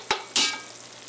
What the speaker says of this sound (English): So these onions have been sauteing for about 8 minutes